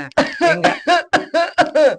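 A person coughs repeatedly in a rapid series of about eight short, harsh, voiced bursts, loud and close, with no other talk.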